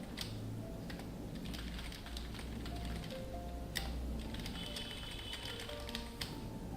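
Rapid, uneven tapping on a computer keyboard, a steady run of quiet close clicks under a faint background hum, with no talking.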